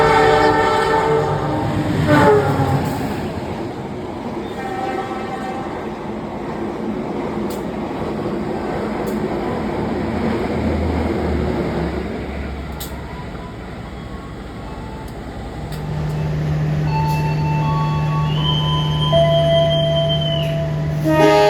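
The Taksaka express train runs through Kutoarjo station with a long, loud rumble of wagons and clickety-clack over the rails. The roar fades midway, and a sustained horn-like tone rises near the end.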